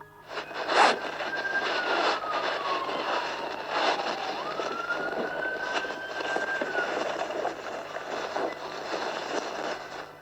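Police car siren wailing during a chase with an off-road RZR side-by-side, a rising and falling tone at moderate distance over background road noise and a few sharp clanks.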